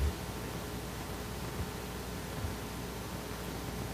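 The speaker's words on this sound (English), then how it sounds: "It sounded more like white noise." A badly generated digital tone, written out with Python's scipy into a WAV file, that comes out as steady broadband white-noise hiss, uniform and unbroken throughout, with a few faint low thumps.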